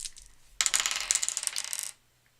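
Dice rolling during a game of Tiny Epic Western: a sudden burst of hard plastic clatter and rattling lasting just over a second, close and fairly loud, then stopping abruptly with no talk.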